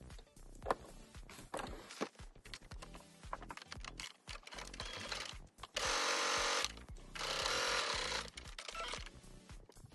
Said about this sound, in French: on va venir coudre vraiment au plus près ici de l'ourlet